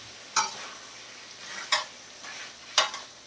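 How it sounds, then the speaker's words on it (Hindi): Fish frying on a tawa with masala, a steady soft sizzle broken by three distinct scraping stir strokes spaced about a second apart, close and without talk. "अब इसे हम 5 मिनट तक भूनेंगे,"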